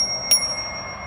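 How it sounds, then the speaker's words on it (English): Schwinn Sierra mountain bike bell gives one bright, short ring close by, fading quickly over a steady high-pitched background tone. "The bell is awesome."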